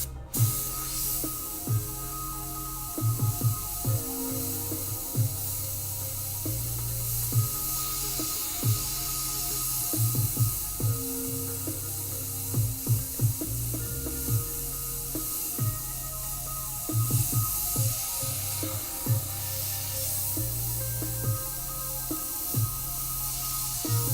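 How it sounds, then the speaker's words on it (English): An airbrush spraying paint on a design meant to resemble rough leather, a constant soft hiss lasting throughout over a low background hum, with small clicks and shifts, no talking. "Some more airbrush here."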